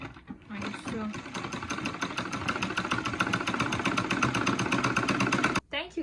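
A sewing machine stitching at close range, a fast steady mechanical whir and rattle that runs for several seconds and then stops abruptly.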